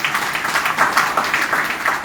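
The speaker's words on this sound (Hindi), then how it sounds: "तालियां होनी चाहिए या नहीं होनी चाहिए?" Audience applause at a health seminar event in Patna, a continuous loud patter of many hands clapping at close range, steady throughout with no talk over it.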